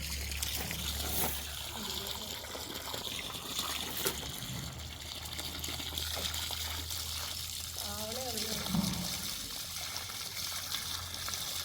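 Freshly pulled home-garden carrots washed in running water in Oman, a continuous trickling, splashing wash filling the whole stretch, with voices talking faintly underneath.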